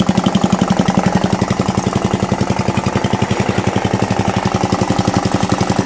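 An Atco Balmoral reel mower running with its drive engaged, a steady, close, rapid mechanical chugging clatter with an even rhythmic beat throughout.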